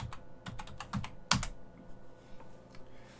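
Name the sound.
typing a password on a computer keyboard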